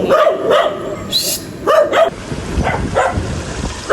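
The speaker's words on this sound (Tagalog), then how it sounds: "Kaya po pala nagkaingay yung mga aso" Several dogs bark in short, loud bursts, some close and some farther off, with a soft patter of rain underneath, beside a river.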